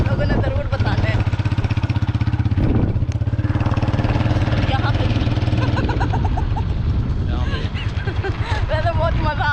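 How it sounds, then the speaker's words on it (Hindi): A motorcycle engine runs while riding, a close, steady low chugging hum with rhythmic pulsing throughout, while someone talks over it. "तो ये देखें जी, हम जा रहे हैं मोटरसाइकिल पे।"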